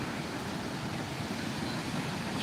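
Steady rushing spring water fills the air in a natural setting, a constant broad hiss and splash heard up close with no voices.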